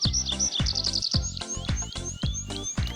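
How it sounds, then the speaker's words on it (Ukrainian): Several birds sing and chirp in rapid, overlapping bursts, bright and close, with a steady chorus of tweets and trills. "Птахи співають, аж заслухаєшся"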